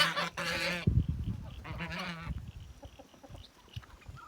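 Guinea fowl calling on a free-range farm, two loud harsh honking cries close by followed by fainter scattered calls and yard noise.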